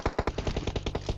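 Automatic gunfire in PUBG Mobile: about ten rapid, evenly spaced shots in one quick burst, punchy and close, with no talking over it.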